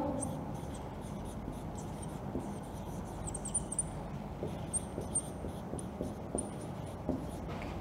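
A teacher writes on a classroom board during an English grammar lesson, producing a steady, scratchy chalk-like rasp with faint tapping strokes over low room noise.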